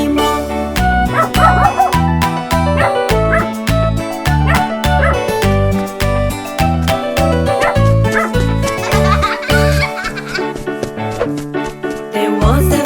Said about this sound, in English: There was a farmer had a dog, Bingo was his name, oh